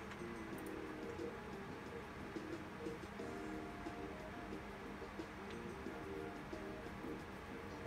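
Train ride in Roller Coaster Tycoon 2 with a steady rumbling rail hum running throughout, layered with busy park ambience and faint bird-like cooing, no talking.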